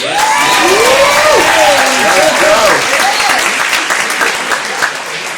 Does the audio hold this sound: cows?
no